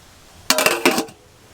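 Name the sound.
pot lid lifted to check the pulao rice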